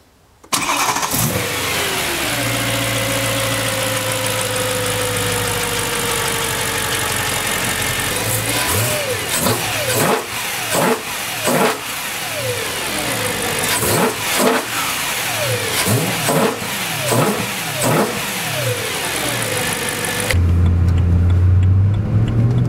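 A BMW E92 M3 with its S65 V8 and an Eventuri intake drives off, the engine rising from a steady drone into repeated revving pulls through the gears, loud and close, ending in a low idle.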